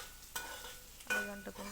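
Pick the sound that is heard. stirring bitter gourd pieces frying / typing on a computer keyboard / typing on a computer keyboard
stirring bitter gourd pieces frying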